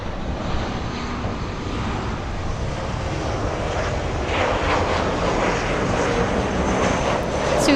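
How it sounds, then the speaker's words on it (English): A Boeing 747 airliner taking off at LAX: a steady, loud jet engine roar with wind buffeting the microphone, slowly swelling over several seconds as the aircraft powers down the runway. "We will definitely watch this 747 take off."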